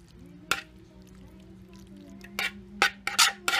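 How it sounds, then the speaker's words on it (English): Bow tie pasta is added into a greased 13 by 9 pan holding a taco and cheese mix. A few soft scraping and clattering bursts rise over a steady low hum, quiet at first and busier toward the end. "So we're going to add our pasta in."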